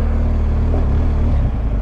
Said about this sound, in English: I don't know why this bike's making a shit fucking noise as well.